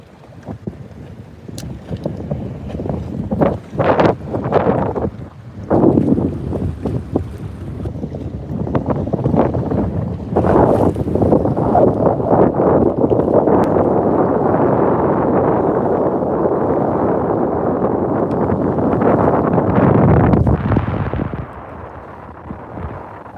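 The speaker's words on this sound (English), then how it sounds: "you guys see how this wind is starting to kick up?" Strong wind buffets the microphone outdoors on open water during a bass fishing trip from a boat, a loud continuous roar that swells and gusts for most of the stretch before easing near the end.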